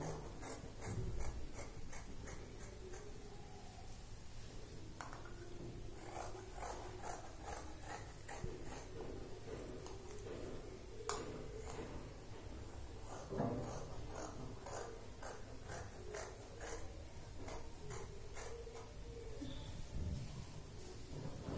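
Scissors cutting away the extra part of saree fabric while making a dress: a run of close, crisp snipping clicks in irregular bursts, with faint rustling of cloth between cuts.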